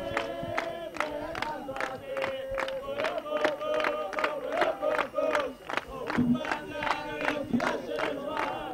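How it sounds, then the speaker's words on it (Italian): Home fans at a Brutium Cosenza versus Silana football match chant and cheer in a steady rhythm, with regular claps or drumbeats marking each beat, loud and close, while voices sing along. "Si fanno sentire i tifosi di casa."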